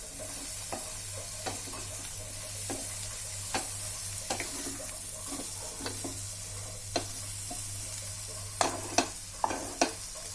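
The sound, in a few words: stirring okra and onion sabzi in a pan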